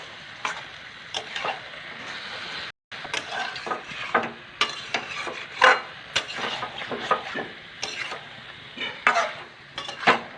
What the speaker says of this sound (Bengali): এবার ভালো করে নেড়ে চেড়ে দেবো।